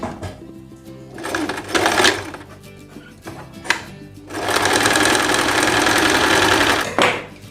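A sewing machine set to maximum tension and widest stitch gathers fabric in loud, fast whirring bursts, several short runs and then one long sustained run, close up with no talk.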